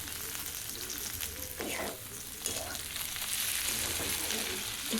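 Chopped onion and fresh peas fry in a pan for poha, giving a constant close sizzle with brief stirring scrapes partway through and no talking.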